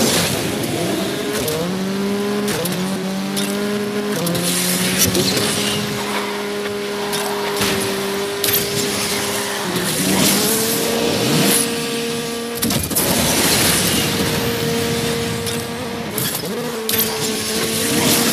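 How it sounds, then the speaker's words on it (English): Race car engine in the video game Asphalt 9: Legends, revving loud and close with rising and falling whining pitch through repeated gear shifts over a steady, continuous drone, no voices. "I like the engine sound of this car."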